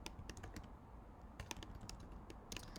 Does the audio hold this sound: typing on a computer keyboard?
yes